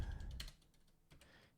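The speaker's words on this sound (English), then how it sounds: "I'm just gonna start typing again." Soft keystrokes on a computer keyboard while typing into the Discord web app: a quick cluster of close, light clicks at the start, then a few scattered taps, faint and with no voice.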